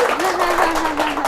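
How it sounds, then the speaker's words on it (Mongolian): Studio audience applause on a late-night talk show, a dense steady wash of clapping lasting the whole moment, with a sustained voice or tone running beneath it. "Та бүхний алга ташлаа сонсъё."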